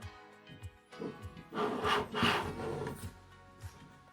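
A wooden dowel is forced into the pre-drilled hole of an IKEA Kallax shelf board, giving a few short rubbing, scraping wood-on-wood pushes that swell and fade, heard alone and up close.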